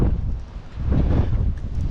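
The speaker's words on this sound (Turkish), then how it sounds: "Acayip bir rüzgar var." Strong stormy wind blasting across the microphone, a steady loud rumbling roar with gusty surges and no voices.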